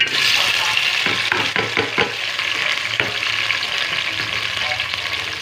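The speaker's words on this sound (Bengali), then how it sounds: "এবার পেঁয়াজটা দেবো।" Onions frying in hot oil in a pan for a fish curry, a loud continuous close sizzle with a few clattering stirs near the start, then a steady hiss.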